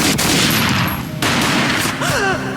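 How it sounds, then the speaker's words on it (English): Loud, dense gunfire from Max Payne, a sustained burst of shots with a brief sharp change midway and ringing tonal effects near the end, no voices. "A gunshot boomed and she fell down in slow motion."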